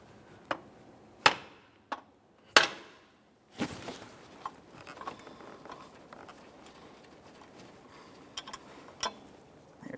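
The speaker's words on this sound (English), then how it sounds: "I'm just using a pry bar and I'll tap on this with a hammer." A hammer taps a pry bar wedged against the water pump of a 2015-2019 Subaru Outback 2.5L H4 engine, giving a few sharp, separate metallic knocks spaced irregularly. Softer scraping and handling noises follow.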